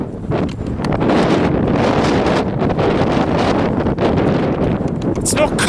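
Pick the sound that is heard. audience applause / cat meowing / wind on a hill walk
wind on a hill walk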